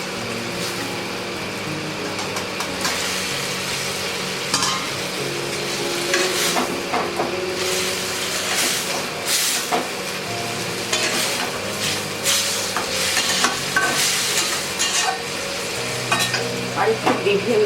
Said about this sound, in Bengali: দু একবার ফুটে গেলে তারপরে আমি মাছটা এর মধ্যে ছেড়ে দিচ্ছি